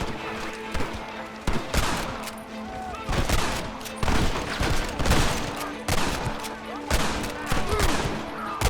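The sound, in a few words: gunfire in the video game Red Dead Redemption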